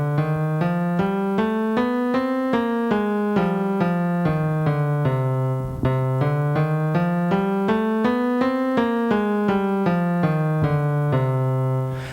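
A melodic minor scale played note by note, climbing up and then coming back down twice in an even, steady rhythm, each tone clear and sustained with nothing else over it.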